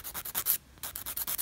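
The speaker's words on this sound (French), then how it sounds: "pareil pour le bruit du limage, ça va peut-être pas être cool" A nail file rasps across fingernails in quick, repeated strokes, about a dozen short scratchy passes with a brief pause midway, close and fairly loud with no talking.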